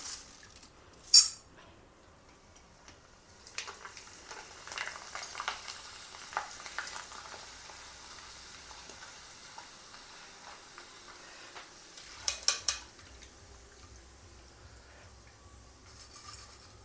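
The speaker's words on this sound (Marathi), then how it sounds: "थोडे थोडे पोहे टाकत सगळे पोहे तळून घ्यायचे" Flattened rice (poha) frying in hot oil for a corn chivada snack gives a soft, steady sizzle, broken by a couple of brief louder bursts and light clinks as it is stirred.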